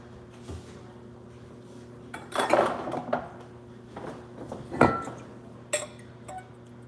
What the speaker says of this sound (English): Hang on, let me pour us a glass of wine here.